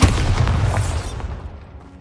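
A Bombarda spell explodes in Hogwarts Legacy with a heavy, loud boom that rumbles at first, then fades into a trailing decay over about two seconds.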